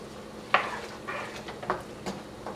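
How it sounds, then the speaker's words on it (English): Spoon stirring tomato basil pasta in a pan, giving a few soft scraping clinks spaced over a couple of seconds above a low sizzle, close and fairly quiet. "And just keep stirring it."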